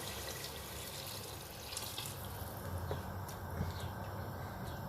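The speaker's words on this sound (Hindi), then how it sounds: "तो अब हम इसके अंदर डालना है पानी इसके अंदर डालना है उतना जितना ये हमारा मीट जो है कवर हो जाए।" Water pours steadily from a jug into a pot of mutton nihari meat, a continuous low splashing and gurgling that stays fairly faint and even, with no talking.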